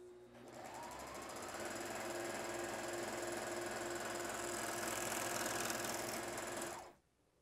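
A JUKI MO-1000 serger stitches two layers of lightweight jersey in a steady, fast mechanical whir with rhythmic clatter, running close and continuously for about seven seconds before stopping abruptly.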